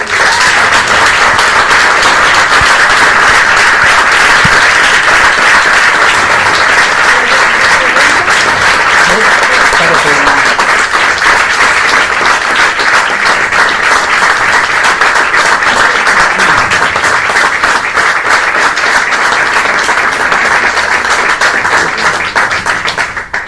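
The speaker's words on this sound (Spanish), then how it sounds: "vamos a aplaudir por la igualdad" An audience at a talk on equality applauds, a loud, dense, sustained wash of clapping that runs steadily for over twenty seconds before starting to thin out at the very end.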